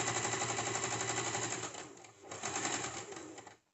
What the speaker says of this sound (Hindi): तरीके से हम यहाँ पे सिलाई लगाते हुए चलेंगे